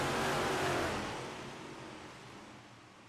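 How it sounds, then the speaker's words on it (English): Big Block Modified race cars on iRacing's Knoxville Raceway roaring loudly at the green flag, a dense engine drone that gradually fades as the pack pulls away. "rumbling this evening on iRacing with the sound of Big Block Modifieds"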